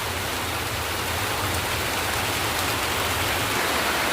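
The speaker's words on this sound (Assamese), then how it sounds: "ইমান ডাঙৰ বৰষুণ দিছে" Heavy rain pours down in a dense, steady roar of hiss with no pauses, loud and close, and no voices.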